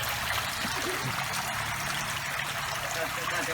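Water pours steadily into a small artificial waterfall in a home garden, a continuous close splashing and trickling wash that holds even throughout.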